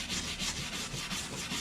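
Charred wood from a shou sugi ban test being scraped by hand, a steady rough rasping with repeated back-and-forth strokes, close and fairly quiet, with no voices.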